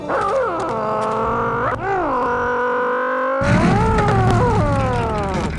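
A car engine in the Grim Fandango video game revs and pulls away, a loud, close droning hum whose pitch swoops up and down several times before settling into a steadier rumble.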